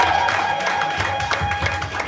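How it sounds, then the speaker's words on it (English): A crowd at a writers' awards gala night claps steadily throughout, a dense, even patter with a faint sustained tone and murmuring in the background. "Please let me give them a round of applause."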